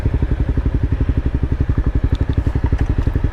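A Honda CBR300R motorcycle engine idles as it warms up, a close, loud, steady rapid thump with a regular pulsing rhythm throughout and no talking.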